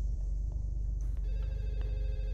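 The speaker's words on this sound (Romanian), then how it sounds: "Sună telefonul, ia." A telephone rings inside a horror video game, its electronic bell starting abruptly and trilling steadily at moderate volume over a low droning ambient background.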